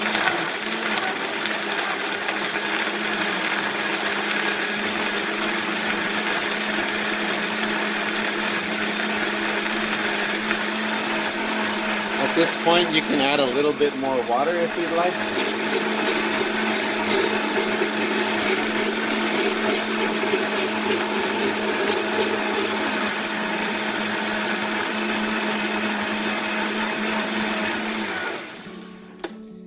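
A Vitamix blender runs loud and steady on red chile pods, a continuous high whirring roar with a brief shift in pitch partway through before cutting off at the end; a voice speaks briefly over it.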